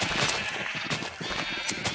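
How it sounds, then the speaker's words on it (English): Sheep bleating in the Minecraft video game, several short bleats spread across the stretch over a steady bed of background game sound, moderately loud and with no talking. "Hopefully these sheep are not too loud."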